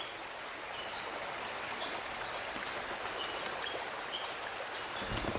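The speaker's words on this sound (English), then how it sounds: "This hidden gem of a little waterfall" A small waterfall on Stonehouse Brook at Tower Hill Preserve splashes in a steady, soft rush of water, with faint bird chirps scattered in the background.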